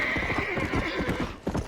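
Horse hooves clip-clop in a steady rhythm with a neigh in the Red Dead Redemption video game, close and clear with no talking over them.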